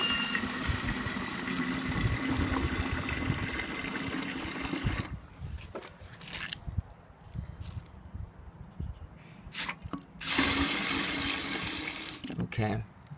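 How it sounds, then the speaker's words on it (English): Tap water runs steadily into a gallon container, a continuous rushing stream for about five seconds, then stopping, with a second shorter burst of running water later and a low background hum between. "you're gonna fill it up to a gallon of water"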